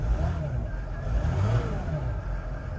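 Mercedes Sprinter van engine revving, a mid-pitched motor rising and falling in short surges, close by, with a voice talking at times.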